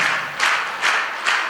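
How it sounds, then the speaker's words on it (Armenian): Wedding guests applaud in a few swelling bursts of clapping, a dense crowd sound that rises and falls about three times in quick succession. "Խնդրում եմ բարձր ծափարենք"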